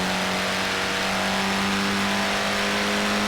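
Mini Cooper S engine in Forza Horizon 4, a steady mid-pitched drone holding at an even level throughout with no talk over it.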